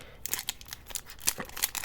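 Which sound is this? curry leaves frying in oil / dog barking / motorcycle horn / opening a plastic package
opening a plastic package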